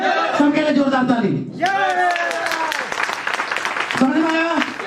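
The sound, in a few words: audience applause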